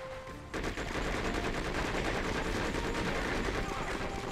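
Dense, continuous automatic gunfire in the video game Conflict: Desert Storm 2 starts abruptly after half a second and keeps up a loud, rapid rattle to the end.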